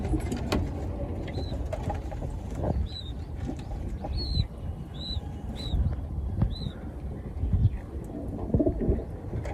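Pigeons coo softly and repeatedly, in short separated calls at a moderate distance, over a steady low background of ambient noise and rumble.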